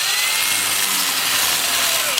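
A Sandoflex flexible sander works over the bark rim of a live-edge plum wood bowl on the lathe, a loud steady abrasive hiss and whir, continuous and close, with no talking.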